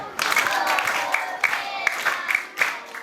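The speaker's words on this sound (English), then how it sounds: "Can you clap him?" A group of children in a primary school classroom clapping together in an irregular patter, close by, with some chatter and voices mixed underneath.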